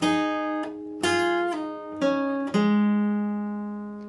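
Five slow, ringing guitar notes or chords plucked one at a time, each left to sustain and decay, the last ringing out longest.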